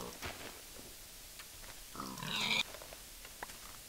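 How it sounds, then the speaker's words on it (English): A pig grunting in the Minecraft video game, a short squealing grunt in the middle over steady low background noise, with faint clicks around it. "Oh, hi, pig!"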